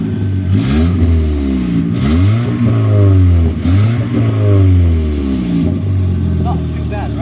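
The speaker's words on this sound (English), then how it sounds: "Let's rev the engine a little bit." A 1991 Ford Probe GT engine with a straight pipe exhaust revs up repeatedly, loud and close, each blip rising and falling with a raspy tone over a steady idle.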